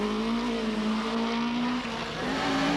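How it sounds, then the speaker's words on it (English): A Nissan-engined Toyota rally car pulls away from the start line at the 1992 Lurgan Park Rally, its engine a steady loud drone that rises in pitch, dips briefly as it shifts, then climbs again, with no one talking. "Eamon McAleenan comes off the start line in his Nissan engine Toyota for what will prove to be a very short rally."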